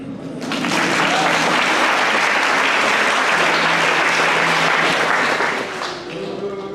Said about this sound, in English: That should get a clap.